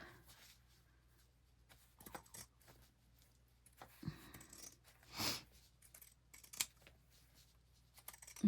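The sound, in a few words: scissors cutting a Dollar Tree journal cover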